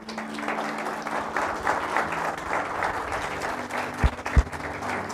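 Church congregation applauding, a steady wash of clapping for about four seconds that ends with a couple of louder bumps.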